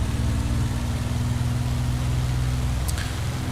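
A P-51D Mustang's piston engine in a flight simulator runs up with the brakes held, a loud steady low drone with strong harmonic hum and no talk.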